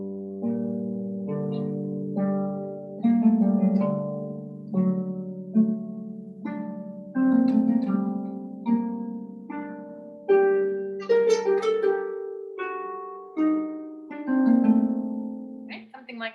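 Harp playing plucked notes in groups, a few slow notes and then a quick run, repeated across the passage; clear, close and moderately soft ringing tones with no one talking.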